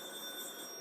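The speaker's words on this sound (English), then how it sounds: "Hold, please. The phone's ringing." A telephone rings with a faint, steady electronic tone that lasts under a second, with no talk over it.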